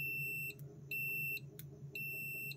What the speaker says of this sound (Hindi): मीटर को बीप मोड में रखेंगे गाइस, ठीक है। बस आप कंटिन्यूटी पे ध्यान रखिएगा